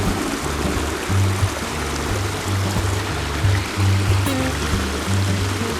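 A small roadside stream runs through snow, a continuous close babble of flowing water with low gurgling pulses, steady and alone.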